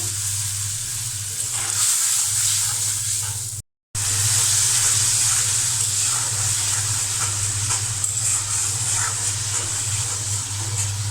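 Spices cooked down in a pan with fried onions, with cumin paste, turmeric and salt: a steady bright sizzle with a low constant hum underneath, interrupted by one short silence, and no voices.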